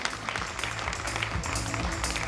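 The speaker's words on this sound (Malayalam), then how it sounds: "വലിയൊരു കൈയടി കൊടുക്കാം" An audience applauds at the Paalum Pazhavum audio launch attended by Meera Jasmine, with dense, steady clapping filling the whole short stretch, with no voices over it.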